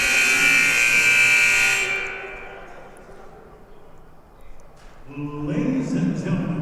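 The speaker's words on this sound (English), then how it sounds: "we're about to get that buzzer" Loud, sustained electronic buzzer blast sounds for nearly two seconds at a men's college basketball game between Harcum and CCBC Dundalk, then cuts off into gym crowd murmur, with a swell of voices near the end.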